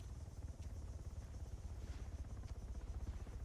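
Helicopter in the military game Arma 3 passing overhead, a steady, fairly loud low rotor thump with rhythmic pulsing throughout and no talking.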